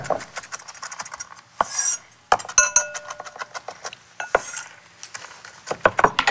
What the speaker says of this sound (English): I'm going ahead and mix my butter and the graham crumbs